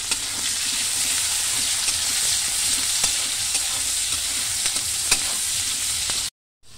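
Onions and spices frying in a pan over a village kitchen fire, a steady close sizzle with faint stirring scrapes throughout, cutting off abruptly near the end.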